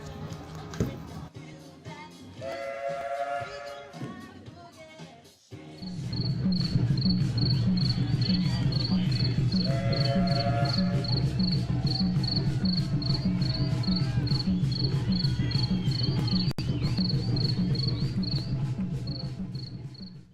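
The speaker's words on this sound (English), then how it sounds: "Crickets begin their evening chirp." Recorded crickets chirping in the evening at a championship game venue, a steady rapid pulsing trill that starts after a few seconds of quieter ambience and continues loud and unbroken to the end.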